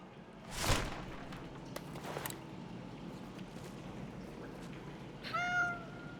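A few soft thumps and footsteps give way to a single short cat meow near the end, set in the Indiana Jones and the Great Circle video game with a low ambient background.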